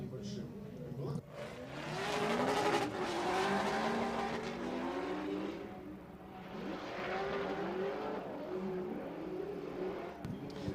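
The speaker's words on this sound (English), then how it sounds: "Absolute brilliant chase driving from Nazir Al-Harbali." Drift cars battling at the 2023 Oman International Drift Championship, engines revving hard with high tire squeal rising and falling in two long waves, heard at a distance under excited commentary.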